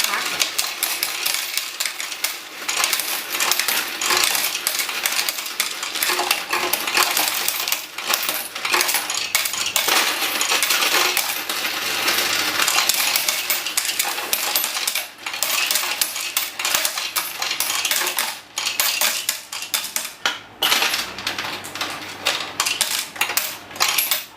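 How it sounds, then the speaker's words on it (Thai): An EUROX 520 coin counting machine sorting coins into slots: dense, continuous metallic clinking and rattling, loud and close, lasting throughout with no pauses. "เครื่องจะค่อยๆทำการคัดแยกเหรียญแต่ละเหรียญนะคะ ลงมาในช่อง"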